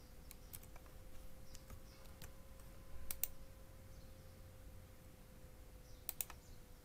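Typing on a computer keyboard in Word, quiet scattered clicks in small bursts with a few louder clustered keystrokes over a faint steady hum.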